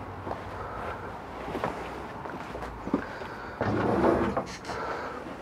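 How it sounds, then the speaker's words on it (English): A full extension drawer in a 2017 Allegro Bus 40SP motorhome slides with a soft rumbling glide that swells briefly near the end, over a quiet, airy room tone. "Full extension drawers."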